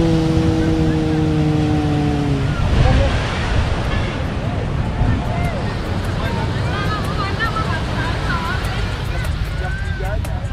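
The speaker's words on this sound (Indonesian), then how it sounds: "Nih ombaknya, teman-teman." Ocean waves wash onto a beach near Padang at sunset, a steady broadband roar mixed with wind buffeting, with a low horn-like tone at the start and people talking over it.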